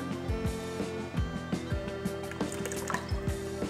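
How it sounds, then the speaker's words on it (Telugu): Water pours in a few short bursts, splashing and dripping into a container, with clinking sounds between pours. "కొంచెం వాటర్ వేయండి."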